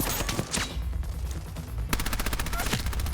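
Gunfire in the Fallout: New Vegas video game, with dense rapid bursts of automatic shots crackling steadily throughout, loud and close, and a sharper rhythmic stream of rounds in the second half.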